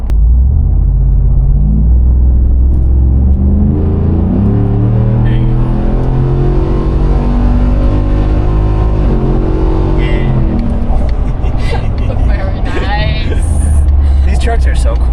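A 2024 Ford truck with a Coyote 5.0 V8 and Corsa Extreme exhaust drives and revs, a deep loud rumble rising in pitch as it accelerates, with people talking over it inside the cab.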